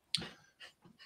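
A puppy pants in quick, soft breaths close by: one sharper huff followed by two fainter exhales in a quiet room.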